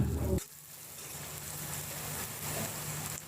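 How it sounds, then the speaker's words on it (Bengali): Chopped garlic, onion and chili fry in a pan: a brief low thump gives way to a steady, fairly quiet sizzle that crackles on without pause. "এবার একে একে সমস্ত কাটা রসুন পেঁয়াজ মরিচ ভালো করে ভেজে নেব"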